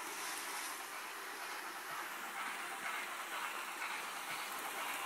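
A Hornby model train runs on a DCC layout under Hornby Elite control, giving a faint, steady hiss and rumble with no voices.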